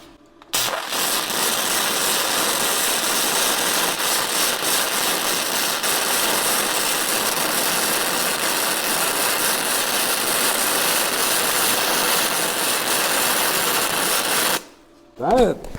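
A cheap $140 flux core welder runs one long, steady bead, a loud continuous crackling buzz that starts abruptly and cuts off near the end, with a brief voice afterward.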